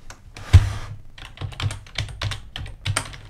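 Keystrokes on a computer keyboard during 3D model editing: a heavy thump near the start, likely the space bar, then a steady run of quick, close taps, alone without speech.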